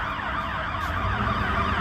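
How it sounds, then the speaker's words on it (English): An ambulance siren passes along a Chicago street through a six-way intersection, a steady wailing tone over dense low traffic rumble, loud and close throughout with no voices. "So there's the ambulance, number 32."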